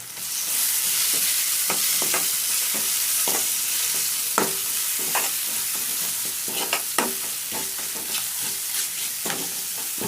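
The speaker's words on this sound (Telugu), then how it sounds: "ఎంత కనగలితే అంత ఆయిల్లో కనుక కాసేపు అట్లా అట్లా అంటే కొంచెం మంచి రంగు వస్తుంది" Onions, tomatoes, turmeric and chili fry in oil while a spoon stirs them, giving a steady close sizzle broken by repeated scraping strokes against the pan for ten seconds, with no voices.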